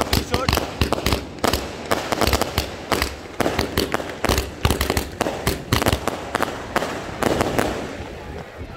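A 120-shot sky shot firework cake fires off in a rapid, loud string of booming bursts and crackles that goes on without pause, close and dense throughout.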